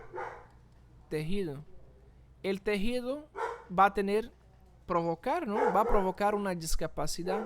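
A dog barks and yips repeatedly in a room while a lecturer keeps talking in Spanish, the barks loud and mixed in with the voice.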